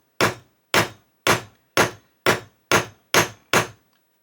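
A hammer strikes a small metal piece against a metal block eight times in a steady, evenly spaced rhythm, each blow a sharp, loud, close clank that decays quickly into silence.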